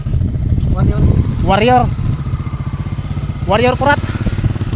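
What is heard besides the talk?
motorcycle riding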